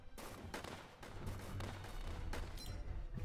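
Rapid machine-gun bursts from a World War tower defense game, Northend, fire in a steady stream of sharp cracks with several louder thumps mixed in, continuous and close throughout.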